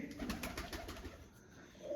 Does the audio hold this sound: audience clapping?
no